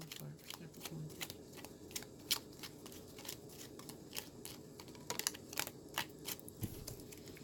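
Tarot cards are shuffled and drawn during a reading, giving quick close riffling clicks and snaps in irregular bursts, with soft speech faintly underneath.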